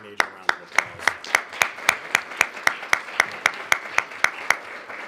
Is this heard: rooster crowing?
no